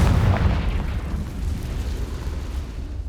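A Confringo fire spell explodes in Hogwarts Legacy: a loud, deep boom opens and then fades into a long, low rumbling tail, with no voices.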